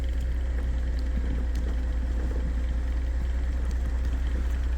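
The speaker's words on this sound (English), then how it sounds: "Just idling" A logging skidder's diesel engine idles with a steady, low, continuous rumble and no talking over it.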